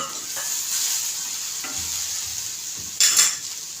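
Cashew pieces fry with well-browned onion in a pan for a paneer curry. A steady sizzle runs throughout, with a few faint taps and one louder scrape of the spoon near the end, and no voices.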